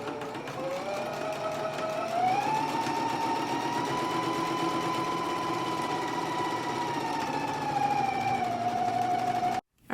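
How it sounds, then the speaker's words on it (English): An electric sewing machine stitching down a fly piece on a skirt, running in one long steady hum at a constant pace, moderately close, before stopping abruptly at the end. "I'm gonna go ahead and stitch this down now."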